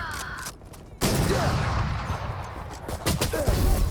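Gunfire from a Valorant match, sharp bursts of shots loud in the foreground of game audio, with a brief quiet gap before the shooting resumes and continues to the end.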